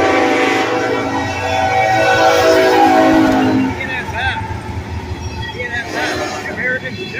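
A BNSF train passes nearby with a loud, sustained horn blast over a heavy rolling rumble, followed by rhythmic clatter of cars on the tracks as people talk.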